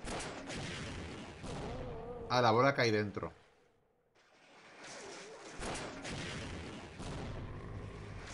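Booming bazooka explosions in Half-Life's Xen level, several heavy broadband blasts roaring before and after a short stretch of someone talking, with a brief quiet dip between them.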